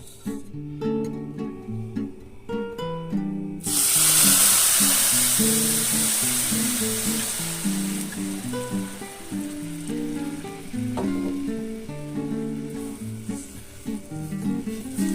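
Hot milk poured onto vermicelli fried in ghee sets off a sudden loud sizzle and hiss that slowly fades while background music plays on.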